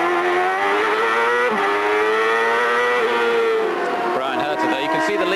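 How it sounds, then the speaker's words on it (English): A CART race car at Laguna Seca in 1998 working down through the gears, a loud, close, high-pitched engine scream whose pitch steps and slides as it downshifts and then builds again under power, with a commentator speaking over it. "Listen to the engine working hard down through the gears here,"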